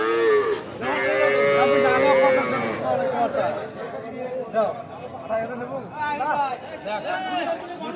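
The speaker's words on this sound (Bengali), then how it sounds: "এগুলা সবগুলা কিন্তু ষাঁড় বাচ্চা।" Young local-breed bull calves, about three months old, moo loudly at a village cattle market, one long call followed by shorter ones amid crowd chatter and nearby talking.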